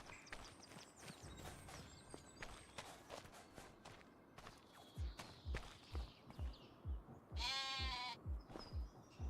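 Sheep in Farming Simulator 25 let out a loud, close bleat near the end, after faint earlier calls, over steady rhythmic footsteps and clip-clop thuds through the second half.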